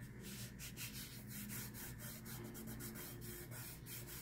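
Fabric soaked in Mod Podge is rubbed over a stainless steel tumbler, making quiet, rapid, rhythmic rasping strokes with a steady back-and-forth beat, faint and close.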